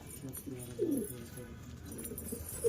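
Pigeons coo softly in a loft or coop, with a few low, throaty murmurs close by and faint background rustle.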